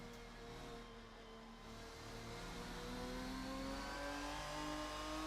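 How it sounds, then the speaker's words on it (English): A race car engine in a racing video game revs hard and holds a steady, rising drone with sharp harmonic whine, loud and close, with no voices over it. "I swear, this car sounds like it's turbocharged to me"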